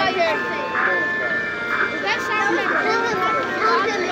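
A parked ice cream truck plays its tinny, looping music-box jingle, repeating a bright melody over several seconds while people nearby talk and children chatter in the background.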